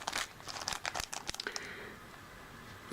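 Thick rubber charm stickers in a plastic package are handled up close, giving quick bursts of crinkling and crackling, then quieter rustling as the handling slows.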